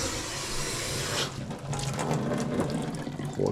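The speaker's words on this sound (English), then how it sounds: "Okay, so the water is running now." Water rushes through a newly installed dishwasher water valve under a kitchen sink, a steady hiss and gush that shifts partway through into a lighter, splashing flow, with no talking.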